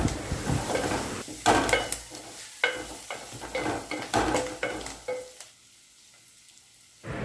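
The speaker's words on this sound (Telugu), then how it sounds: "కొంచెం పసుపు వేసుకోవాలి ఇదంతా కలపెట్టుకోవాలి" Turmeric being stirred into a sizzling mixture in a pan while cooking a chana dal and gongura leaf curry, with a spoon scraping and clinking in uneven strokes over a steady frying hiss that drops away at the end.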